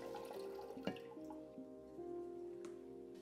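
Small pump-fed waterfall running in a terrarium, water trickling and dripping over hardscape in a steady, faint patter with occasional sharper drips, heard close up.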